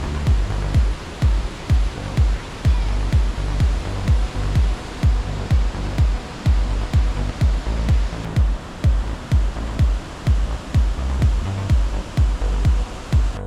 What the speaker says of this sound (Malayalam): പ്രകൃതിയുടെ സംഹാര താണ്ഡവം എന്നൊക്കെ പറയുന്നത് വാഴച്ചാൽ വെള്ളച്ചാട്ടം നമ്മൾ കാണുമ്പോഴാണ്